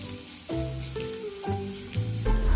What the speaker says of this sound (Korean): 베이비 웍에 식용유 두르고 다진 마늘, 대파 넣고 향이 우러나도록 잠시 볶을게요.